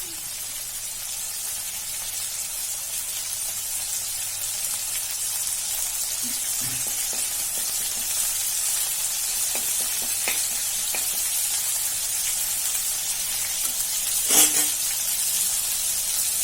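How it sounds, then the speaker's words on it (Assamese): Brinjal and curry leaves frying in oil, a continuous close sizzle and hiss with scattered crackles and a sharp pop near the end, no talking. "পাতখিনি এনেদৰে মাজতে দি লৈ অলপ সময় ভাজি ল'ম।"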